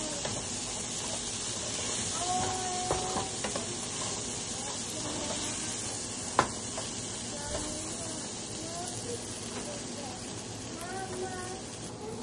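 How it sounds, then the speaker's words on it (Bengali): Mashed banana bharta with dried chili is stirred in a pan, with a steady sizzling hiss throughout and scattered scraping strokes, one sharp knock near the middle; a voice talks over it. "দিয়ে এখন ভালো করে নাড়তে হবে।"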